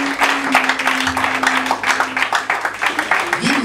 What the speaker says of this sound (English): Give the Lord the mighty clap.